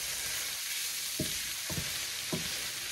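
Cauliflower fried rice with vegetables frying in a pan gives a constant loud sizzle, broken by three soft scraping stirs spaced about half a second apart.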